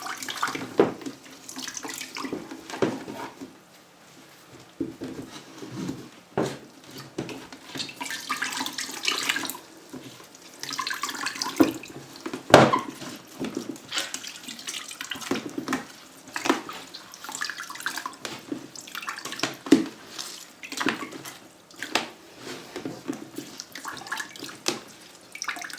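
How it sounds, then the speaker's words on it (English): Water being poured off soaked paper clay pulp, splashing and gurgling in uneven bursts for a long stretch, with trickles and brief drips between pours, close and fairly loud. "I can empty all the water out."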